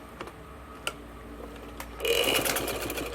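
A sewing machine runs in a quick burst while stitching a gents shalwar, starting after a few soft clicks and ticks, close and fairly loud, with no talking.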